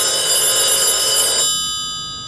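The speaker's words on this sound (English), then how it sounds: "if we trigger our ring input now, it'll ring on this phone" A touch-tone telephone rings from a Faux Fone escape room prop, a close bright electronic bell trill lasting over a second, then cutting off into silence.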